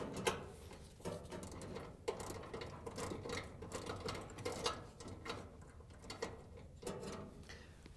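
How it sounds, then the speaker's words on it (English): A ratchet with a 1/4-inch socket loosens a screw on a Maytag dryer igniter bracket, giving rapid repeated clicking strokes in short bursts at close range, with no talking. "We're going to use a 1/4-inch socket with a ratchet to loosen it up."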